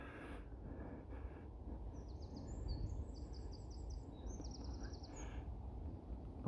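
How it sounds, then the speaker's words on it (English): Birds singing and calling in a bluebell woodland, several bright chirping phrases in quick repeated bursts over a steady background rumble, moderately close and clear. "Lots of bird sounds around here."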